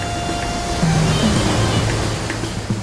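Fast, dangerous river water rushes in a constant loud wash, with low tonal hums and faint scattered sounds layered underneath and no speech.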